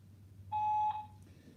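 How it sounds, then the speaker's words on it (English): A voicemail system gives a single steady electronic beep, clear and about half a second long, over a faint low hum on a phone line. "At the tone, please record your message."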